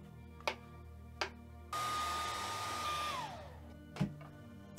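Hair dryer drying wet paint on a rain painting, switched on after two soft knocks and blowing as a loud, steady whoosh with a high motor whine, then dropping in pitch as it shuts off, followed by a clunk.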